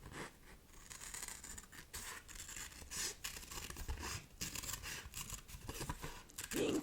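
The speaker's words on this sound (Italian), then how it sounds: "prendiamo le nostre forbici, ok? E andiamo a tagliare." Scissors snip through paper in a quiet, close-up ASMR roleplay, producing a run of soft, crisp cutting and crinkling sounds with no talking.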